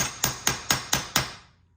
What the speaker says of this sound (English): Ooh, the hammer might be harder than the vise.